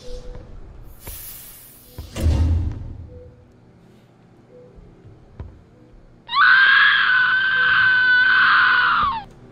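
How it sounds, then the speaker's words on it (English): A loud, sustained scream rings out alone for about three seconds, steady and piercing, after an earlier quieter stretch holding brief shuffles and a low thump. "Good scream."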